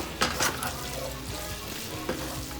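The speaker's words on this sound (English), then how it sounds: "It's been stir frying for 2 minutes at least now." Steady sizzling of Korean fire noodles stir-frying in a hot pan, with a few brief scraping clacks of a utensil stirring, close and continuous.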